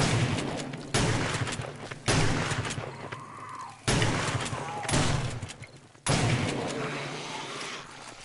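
Shotgun blasts aimed at a burning zombie in the survival game 7 Days to Die: five loud, sharp booms at irregular intervals, each trailing off with a decaying rumble, and no talk in between.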